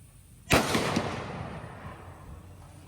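A single sharp report from a Savage Axis Pro .25-06 rifle at an outdoor range, a loud close crack that decays into a long rolling echo.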